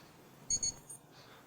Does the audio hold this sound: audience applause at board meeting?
no